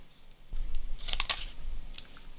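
A 1.5 inch craft punch cutting through paper, heard as a quiet handling rustle followed by a crisp, close crunching snap and then a smaller click afterward.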